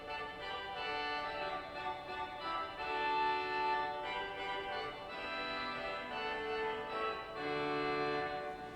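A 4-foot reed stop on a 1958 Reuter pipe organ in a church plays a sustained line of bright, buzzy held notes that change pitch in steps, steady and fairly loud, with nothing else sounding.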